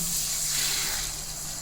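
Water is added to a simmering tomato kurma masala in a pan, a short, soft steady hiss with no talk.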